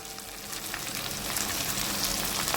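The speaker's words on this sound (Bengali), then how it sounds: "ভালো করে মশলাটা আমি কষিয়ে নেব।" Spice paste of tomato, ginger, cumin and chilli frying in oil in a pan for potol chingri, a steady close sizzle that grows slightly louder, with occasional stirring and no voices.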